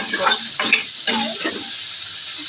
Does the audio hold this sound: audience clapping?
no